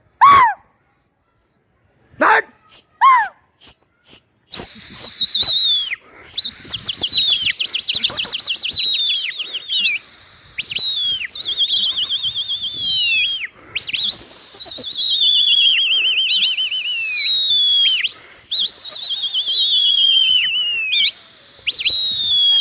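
Pigeons at an Agra pigeon market chirp and whistle in bright, repeated calls, a few sharp isolated calls at first, then a near-continuous busy chorus of whistling tones.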